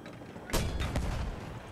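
Mortar artillery fire in the video game Battlefield 1, a sudden loud boom with a short second blast and rumbling tail over steady background game noise.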